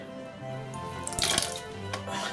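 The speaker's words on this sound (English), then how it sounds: "And I'll just dip that into some water just to get it wet." A synthetic-bristle shaving brush, about 22 mm, is dipped into water, giving a short burst of splashing and dripping sounds close by, with no talking.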